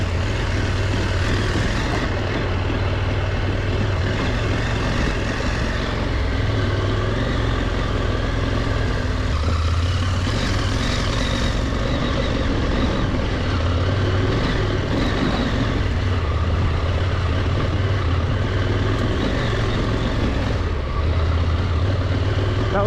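KTM 890 motorcycle engine running steadily under riding load, a loud continuous low drone with slight shifts in pitch and heavy wind noise, no clear gear changes.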